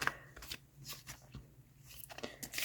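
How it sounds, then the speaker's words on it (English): Large tarot cards are shuffled by hand in a string of quick riffling bursts and soft crunchy flicks, close and fairly quiet, with no talk. "these cards are quite large, so I'm finding that shuffling them is a little awkward for my hands"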